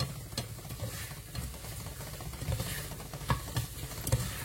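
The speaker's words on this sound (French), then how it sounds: "Je fais revenir les oignons dans mon beurre." Chopped onions frying in butter in a pan make a soft, close sizzle and crackle with occasional light stirring scrapes, fairly quiet overall and without any talk.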